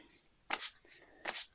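Oracle cards being shuffled by hand in two quick riffling bursts, close and crisp, with a brief soft card rustle between them and no voice.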